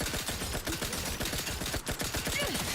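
Rapid automatic gunfire crackles in the video game Outer Worlds 2, a dense continuous burst of close, loud shots with a few brief gaps and faint game sounds underneath.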